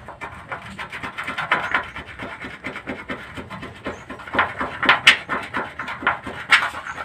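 Steady scratchy scrubbing of a sticker off an object, a rapid rough rubbing that swells louder in bursts toward the end, close up with no talking.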